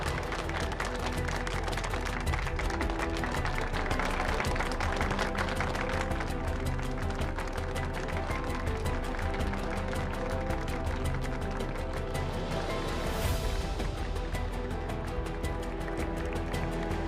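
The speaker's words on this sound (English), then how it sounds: "Let's have one more big round of applause for the feature race winner tonight" A crowd at a Dubai Racing Carnival race meeting claps continuously for the feature-race-winning jockey, a dense, steady applause that lasts throughout.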